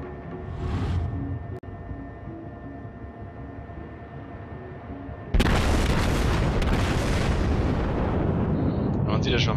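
Ship guns fire in World of Warships, with a muffled thud early on and then a sudden heavy boom that fills the rest of the clip with loud rumbling blast noise.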